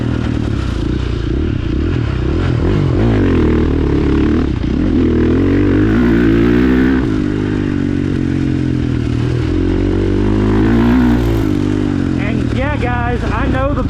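A 2022 KTM 450 SX-F Factory Edition single-cam 450 motocross bike rides a track, its engine droning loudly and continuously, pitch rising and falling as the rider blips and revs through the whole stretch.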